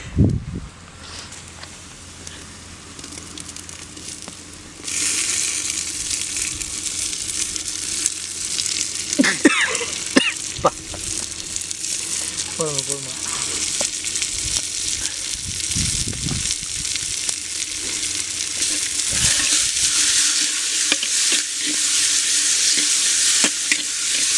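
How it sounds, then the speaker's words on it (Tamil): Onions and tomatoes fry in a clay pot for chicken biryani, with a steady loud sizzle, intermittent scraping and stirring strokes, and the hiss intensifying after a few seconds. "வெங்காயம் தக்காளி போட்டு இன்னும் வதங்கணும்"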